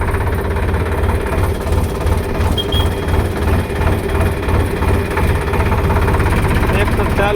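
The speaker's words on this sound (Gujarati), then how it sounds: "ટ્રેક્ટર ચાલુ કરીને આપણે નીકળી ગયા ફેરો ભરવા." A tractor engine runs steadily after starting, a loud, close, pulsing low rumble with rhythmic vibration throughout, and a person talks over it.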